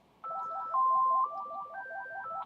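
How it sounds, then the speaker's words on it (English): A phone rings nearby in a room, a patterned electronic ringtone of repeating tones, moderately loud and heard alone without talk. "It's my phone ringing."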